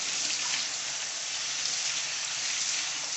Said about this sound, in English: we're going to just go ahead and rinse them real good with cold water